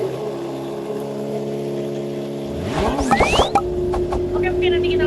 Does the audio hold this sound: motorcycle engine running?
yes